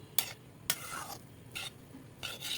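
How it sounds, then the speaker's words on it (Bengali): Chow mein noodles with fried spice mix are tossed in a pan, four sharp scraping strokes over a soft background sizzle, close and clear with no voices. "এরপর আবার ভালো করে নেড়ে চেড়ে সব কিছু মিশিয়ে নিব"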